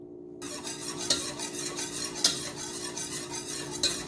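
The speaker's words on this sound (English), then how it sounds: "the constant whisking is what thickens it and keeps it from sticking to the pot" A whisk stirs homemade sweetened condensed milk in a pot, a steady rhythmic scraping swish with a few sharp metallic clinks against the pot, close and continuous without any voices.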